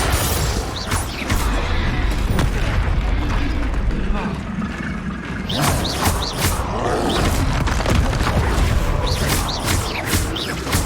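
Repeated Confringo spell blasts go off in Hogwarts Legacy. Booming explosions and crashing impacts pile up over a constant loud roar of combat effects.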